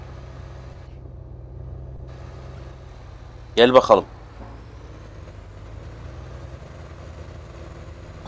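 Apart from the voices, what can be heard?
Massey Ferguson tractor exhaust in BeamNG video game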